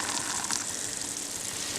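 Water is poured out in a garden for birds, bees and butterflies, a soft steady splashing hiss at low volume throughout.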